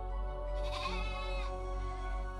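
Sheep bleat in the Cyclops' cave, a single drawn-out, wavering bleat over a steady low hum of background sound.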